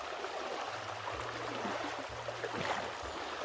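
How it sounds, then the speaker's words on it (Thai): A mountain river flows steadily with a constant wash of rushing, splashing water close by, and a low engine-like hum drones faintly underneath. "อันนี้จะเป็นแม่น้ำนะครับ"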